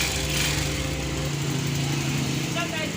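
A Rusi Delta 125 motorcycle engine idles in a light, buzzing drone that drops in tone partway through, fairly quiet and steady.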